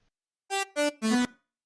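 Three short, bright buzzy synth saw bass notes without chorus in quick succession, dry and close, with brief silence before and after.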